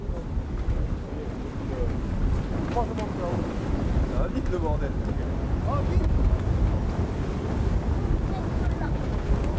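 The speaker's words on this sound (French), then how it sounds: "Mais le vent est forci, il ralentit." Strong wind buffeting a sailboat at sea off Durban, a loud continuous roar and rumble of gusts over the microphone with water noise beneath, while someone speaks briefly.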